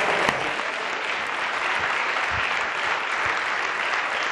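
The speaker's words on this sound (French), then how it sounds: "on devrait tous applaudir l'Auto-Québec et être fiers de la direction." Steady applause fills a parliamentary chamber at the close of question period, a continuous even wash of many hands clapping from a seated assembly, with no speech over it.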